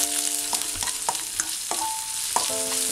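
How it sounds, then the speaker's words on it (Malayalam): Ginger garlic paste roasting with whole spices, cumin, cloves, black cardamom and bay leaf, in a pan: steady bright sizzle and hiss with repeated metallic scrapes of a spatula against the pan, each leaving a short ringing tone. "ജിഞ്ചർ ഗാർലിക് പേസ്റ്റ് ഒന്ന് ചെറുതായിട്ടൊന്ന് റോസ്റ്റ് ആയിട്ടുണ്ട്."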